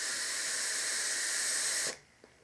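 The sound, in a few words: vaping on Lethal RDA clone, producing clouds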